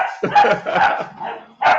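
A 9-week-old puppy barks and yips in several short, loud bursts close by, with small whimpering sounds between them and no talking.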